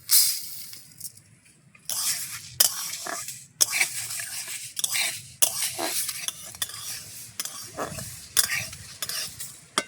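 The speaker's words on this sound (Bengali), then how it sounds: "এবার ডালটা কড়ার মধ্যে দিয়ে দেব।" Dry lentils frying with bay leaves in a hot wok for egg khichuri, repeated scraping strokes of a spatula against the metal pan over a light sizzle, close and irregular, with no voices.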